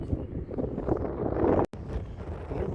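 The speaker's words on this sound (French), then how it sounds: "le vent monte de plus en plus" Wind buffets a microphone out in an open field, a steady low rumbling roar with gusty swells throughout, briefly cutting out for an instant before resuming at the same strength.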